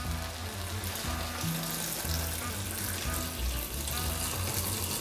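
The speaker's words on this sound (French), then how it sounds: "Ajoutez ensuite le bouillon." Broth pours steadily into a paella pan with saffron and shellfish shells, a continuous splashing, gurgling rush of liquid heard up close without talk.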